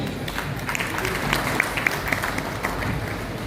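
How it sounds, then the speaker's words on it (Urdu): Audience clapping at an evening programme, a moderate wash of applause with a few sharper claps standing out, heard alone without talk. "ان خوبصورت کام کرنے والوں کے لیے ایک زبردست تالیاں ہونی چاہیے"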